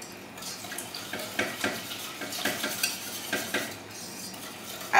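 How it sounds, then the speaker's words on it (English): A whisk stirs cheesecake fondue mixture in a bowl, giving a steady, close run of scraping, clicking metal strokes against the bowl, with no voices. "I'm going to switch to a whisk here."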